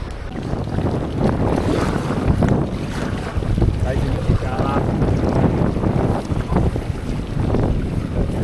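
Strong wind roars and buffets the microphone steadily during a coastal storm on an island, with rushing water and rain-like noise and faint voices underneath.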